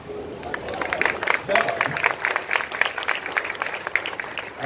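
Audience clapping at a church talk, a crisp burst of many hands with slightly uneven rhythm, fairly close and loud, with some crowd murmur beneath.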